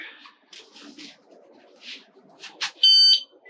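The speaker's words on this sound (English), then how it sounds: "Timer goes off." An electronic shot-timer beep at a precision .22 rifle match stage, a single loud, steady tone near the end after quiet shuffling and faint handling noises.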